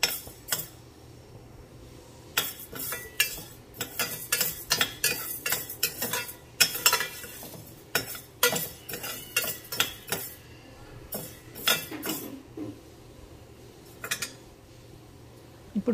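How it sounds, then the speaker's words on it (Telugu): Toor dal being dry-fried and stirred in a pan for gongura dal, heard as repeated scraping and clinking of a spoon against the metal pan in uneven bursts, fairly close and with no talk. "ఫస్ట్ నేను కందిపప్పుని ఫ్రై చేస్తున్నాను అండి."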